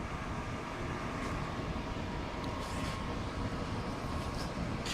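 A Clausing Metosa metal lathe with a two-speed motor hums at a steady low level after starting, a constant even drone with no speech.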